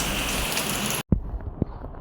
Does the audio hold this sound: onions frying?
no